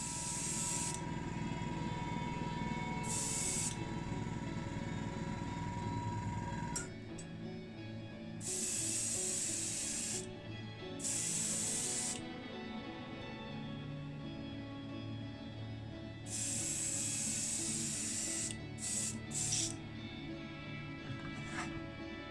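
An aerosol can sprays paint onto a Matchbox Ford Sierra RS500 Cosworth die-cast model, with a long continuous hiss that turns into short sputtering bursts with gaps as the can runs low.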